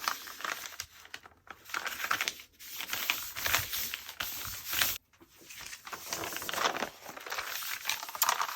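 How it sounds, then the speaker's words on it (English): A sheet of paper being folded in half for a handmade gift card holder, with close crinkling, rustling and creasing scrapes in uneven bursts separated by short pauses. "So we're going to fold it in half."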